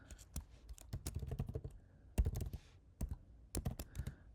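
Typing on a computer keyboard, close and crisp, in irregular bursts of rapid key clicks separated by short pauses.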